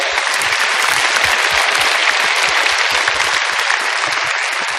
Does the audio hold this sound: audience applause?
yes